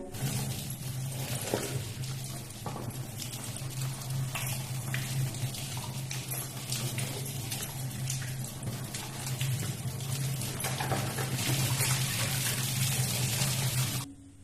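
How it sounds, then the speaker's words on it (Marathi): Running water pours and splashes steadily as bitter gourds are rinsed, close and continuous for the whole stretch. "आपण ही कारली आता स्वच्छ पाण्याने धुवून घेऊया"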